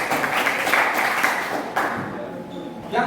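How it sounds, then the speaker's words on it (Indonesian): A classroom of students applauds during a religious education lesson, a dense burst of clapping that holds for under two seconds and then fades, with a brief patter near the end. "Tepuk tangan lagi."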